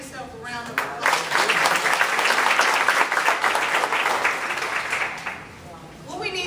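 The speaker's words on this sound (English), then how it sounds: "Everybody give yourself a round of applause" Audience applauding at a talk on culturally responsive teaching, a steady wash of many hands clapping that swells, holds for several seconds and fades near the end, with faint voices underneath.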